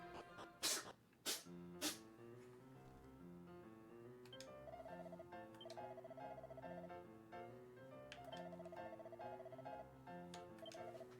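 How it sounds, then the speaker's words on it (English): Three sharp sneezes come in quick succession at the start, loud and abrupt, followed by a looping melodic game soundtrack with bright chiming notes from a Dragon Quest III remake. "He's got sneezes."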